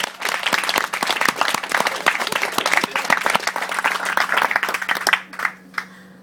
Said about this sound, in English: I think she deserves a round of applause because she looks really lovely